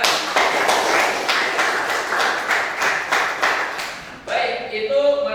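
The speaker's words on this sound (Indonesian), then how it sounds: "tepuk tangan" A classroom of students claps in a quick, rhythmic burst of sharp, evenly spaced beats for about four seconds, then a voice starts talking as the clapping stops.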